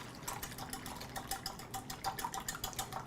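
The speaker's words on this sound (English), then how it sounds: "you would keep whisking until you make the nice emulsion" Olive oil and vinegar being whisked into a vinaigrette for a salade niçoise, a steady quick rhythm of wet clicking and sloshing strokes against a bowl, close and fairly quiet, with no talking.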